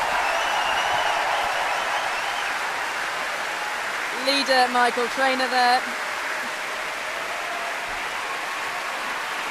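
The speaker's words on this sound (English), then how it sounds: "the cast and a huge cheer for John Wilson" Large audience at the Royal Albert Hall Proms applauding and cheering for the John Wilson Orchestra, cast and conductor after Oklahoma!, a dense continuous roar of clapping with a voice briefly speaking over it midway.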